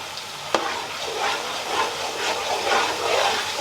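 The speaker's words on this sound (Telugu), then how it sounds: "అది కొంచెంసేపు వేయించి ఆపేద్దాం" Tamarind fries in a pan while amla pickle is being made, giving a steady, soft sizzle with light stirring scrapes and one sharp click near the start.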